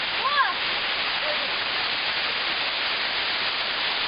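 Maryanchyni waterfalls roar as a steady, loud wash of falling water at the second tier, filling the clip, with a brief voice heard over it at the start.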